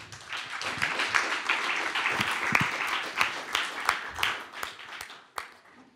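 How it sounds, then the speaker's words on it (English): An audience in a conference hall claps and applauds after a VR trailer screening, a dense burst of many hands that rises, holds, then thins out with a few late claps. "this was the only trailer that was shown today that had applause coming up"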